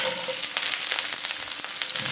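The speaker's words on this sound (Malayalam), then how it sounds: "ഇനി ഒരു 8 വെളുത്തുള്ളിയോളം ചെറുതാക്കി അരിഞ്ഞത് ഇട്ട് കൊടുക്കാം." Chopped garlic, curry leaves and slit green chillies fry in hot oil with a dense, steady sizzle, close and fairly loud, with faint crackles throughout.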